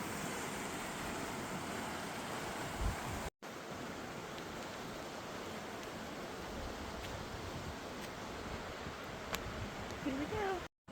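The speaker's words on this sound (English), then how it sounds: "Something so calming about flowing water" Cedar Creek in Pennsylvania, running high after heavy rain, gives a steady broadband rush of flowing water. It is moderately loud and continuous for about eleven seconds, with one brief dropout near the start.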